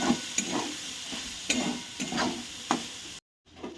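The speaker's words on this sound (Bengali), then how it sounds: "এবার সোয়াবিনটাকে আমি একটু ভেজে নেব।" Soybean chunks with salt and turmeric frying in a pan: a soft sizzle under regular scraping stir strokes, about two a second, close and moderately quiet, with a brief cut to silence near the end.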